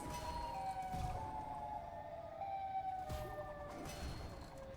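In a Garry's Mod game, the Siren Head creature lets out a wavering, siren-like wail with sustained tonal sweeps that rise and fall, moderately loud, along with some background game noise.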